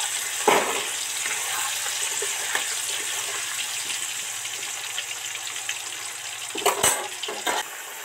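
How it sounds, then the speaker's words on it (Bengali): Potatoes deep fry in hot oil for a mutton curry, making a steady, dense hiss that bubbles throughout. A few clinks and stirring knocks break through near the start and toward the end, with no talking. "এখন 5-7 মিনিট ধরে ধরে আলুগুলো ডিপ ফ্রাই করে ভাজতে থাকবো।"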